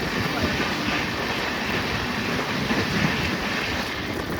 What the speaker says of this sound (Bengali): ট্রেন কিন্তু বেশ দারুণ টানছে।